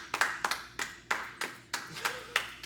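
Sparse clapping, a few hands giving slow, separate claps at a steady rhythm, close and fairly crisp, on a podcast set.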